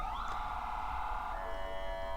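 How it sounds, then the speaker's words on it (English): Emergency sirens passing outside, a steady wailing tone that holds and slowly shifts pitch, moderately loud through the whole stretch with a constant low rumble of background noise and no talk. "Look, we got sirens"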